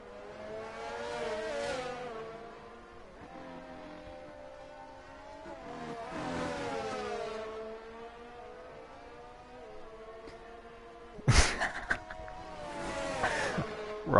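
Race cars in a Formula-style racing video game at Hungary, an AlphaTauri and a McLaren, whine past with rising and falling engine tones, followed by a sharp burst and another revving pass.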